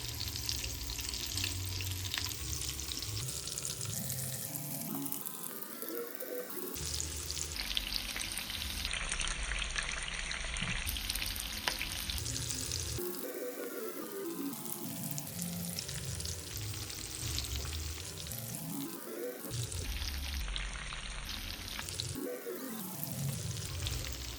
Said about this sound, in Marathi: आपण एक एक करून सर्व मच्छी जी आहे फ्राय करायला ठेवूया